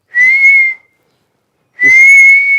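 A human voice imitates the whistling, wheezing breath of a breathing problem: two sustained high whistles, each under a second long, separated by a pause, close and loud.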